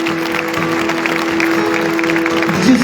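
A church congregation at a revival meeting claps steadily, a continuous patter of applause that stays at an even level throughout, with a faint hum underneath.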